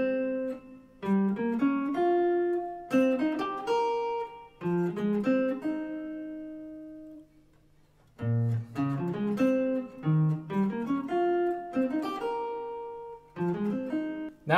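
Solo piano plays a jazz passage, its chords built from rootless voicings, in several sustained phrases with a brief pause midway, clear and close.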